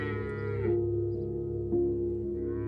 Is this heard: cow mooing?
yes